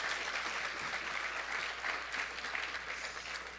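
A church congregation claps continuously in dense, steady applause, moderately loud and even throughout the short stretch, with a faint low hum underneath and no speech.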